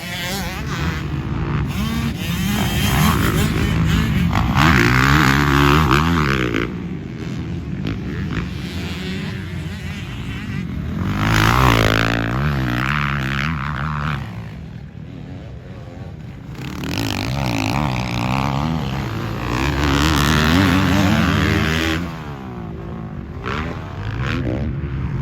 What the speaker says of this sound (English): He's been riding a 2022 Kawasaki KX450 with the stock Showa suspension.